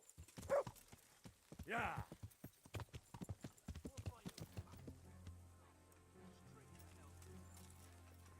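In the video game Kingdom Come: Deliverance, a horse's hooves clip-clop in a quick rhythm during the first few seconds while a voice briefly speaks over them, then fade under a low ambient hum.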